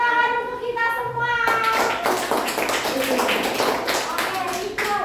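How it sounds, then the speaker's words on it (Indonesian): A group claps hands in a classroom, a dense burst of applause starting after a voice speaks briefly and continuing loud to the end. "tepuk tangan untuk kita semua"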